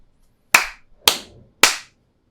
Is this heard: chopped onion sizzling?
no